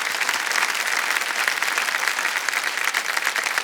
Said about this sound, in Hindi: तो एक बार तालियां बज जाए इनके लिए फिर से